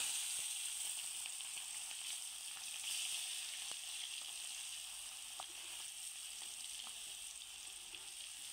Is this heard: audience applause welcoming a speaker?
no